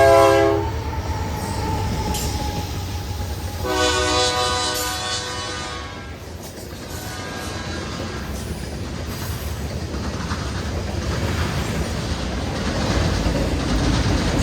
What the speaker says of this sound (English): NS train 148 rounds the curve with a 1x1 consist.